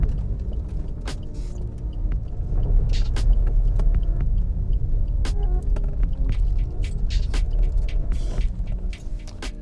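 A 2021 Suzuki Ignis engine hums and rumbles steadily up close while pulling into a car park, with occasional clicks and knocks as the car moves slowly.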